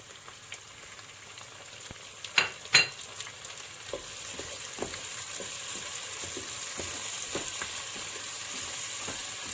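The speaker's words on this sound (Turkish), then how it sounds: "Soğanlarla birlikte güzelce kavuracağız" Steady sizzling of onions and tomatoes frying in a pot, with a couple of louder stirring scrapes early on and soft clinks throughout, no talking.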